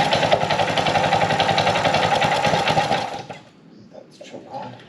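A Heathkit Hiltopper vintage mini bike engine runs with a close, rapid, buzzy, rattling putter for about three seconds, then dies away to near quiet with faint handling noises.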